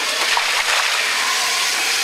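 Water dumped out of a heated, non-freezing livestock water tank splashes steadily and close by, a continuous broadband gush and splatter lasting about two seconds with no pauses.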